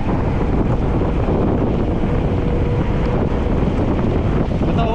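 Cold mountain wind roaring over the mic of a moving motorbike on a hill road, loud, constant rushing noise that swamps everything, with faint engine tone beneath.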